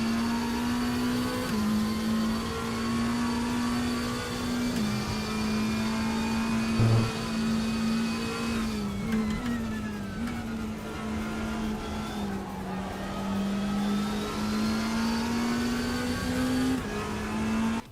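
Sim racing car in RaceRoom with an engine resembling a Ferrari 296 GTB, holding a sustained drone with small pitch steps at gear changes, plus faint tire noise and a brief rise late on.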